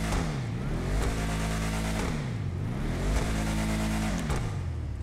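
Bravado Gauntlet Classic muscle car in GTA Online, engine revved repeatedly in steady rising and falling sweeps, loud and close with a deep throaty drone between revs.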